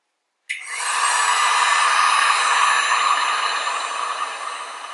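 A heat gun on its low setting blows hot air over resin jewelry, starting abruptly after a moment of silence and then holding a steady, loud, close broadband whoosh with no speech.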